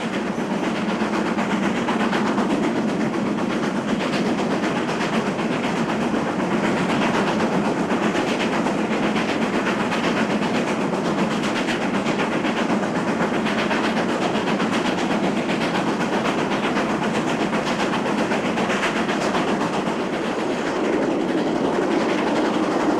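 GWR steam locomotive Sudeley Castle hauling a train up curving gradients as steep as 1 in 52, a loud, steady, hard-working exhaust beat with rolling wheel and carriage rumble throughout, close and continuous.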